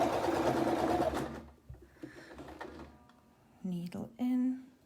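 A sewing machine stitches fabric for a tailor's ham, a rapid mechanical whir in a short burst at the start, then brief stops and restarts while a voice talks over it.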